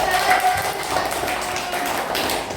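Group of students clapping together in a classroom lesson, a loose rhythmic patter of hands with voices mixed in underneath, moderately close.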